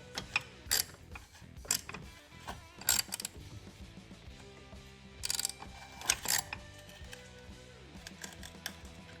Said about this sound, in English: So now we'll go ahead and use our filter wrench tool.